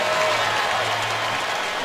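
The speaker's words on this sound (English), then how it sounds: "that's an enormous first down for the Tennessee Titans, and the crowd really appreciates it" Stadium crowd roaring and applauding after a Tennessee Titans first down against the Broncos at an NFL game, a dense, steady cheer filling the whole moment.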